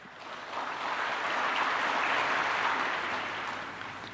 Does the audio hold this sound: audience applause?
yes